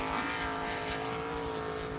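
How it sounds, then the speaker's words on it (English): Jet sprint boat powered by a 410 cubic inch Rodeck engine running on methanol, a steady high-revving roar sustained without break, heard from a moderate distance with no speech over it. "Their weapon of choice is a 410 cubic inch Rodeck engine. And running on methanol and running very nicely."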